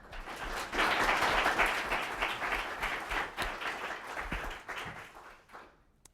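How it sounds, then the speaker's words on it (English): An audience at a panel on land and property rights gives a full round of applause for three panelists, dense clapping that swells, holds, then tapers off to quiet. "Let's give them a round of applause."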